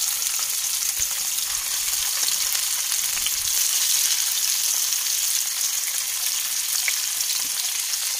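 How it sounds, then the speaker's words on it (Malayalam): Fish frying in a pan of oil in a village kitchen makes a continuous, bright hiss of sizzling with a faint crackle, steady and close, with no voices. "നമ്മുടെ മീൻ ഫ്രൈ ചെയ്യാനായിട്ട് എല്ലാം ഇട്ട് കൊടുത്തിട്ടുണ്ട് കേട്ടോ."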